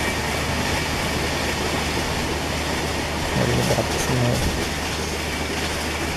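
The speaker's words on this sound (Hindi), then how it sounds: "ट्रैक साउंड सुन सकते हो, काफ़ी अच्छा रहा ट्रैक साउंड" Train track sound in the Trainz Simulator game as an AC express runs along: a steady rolling rumble with faint rhythmic clatter, and a brief stretch of talk over it.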